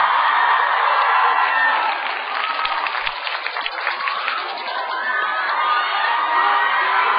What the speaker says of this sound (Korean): 저희 비보이 여러분들께 박수 한번 부탁드립니다